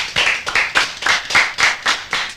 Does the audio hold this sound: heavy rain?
no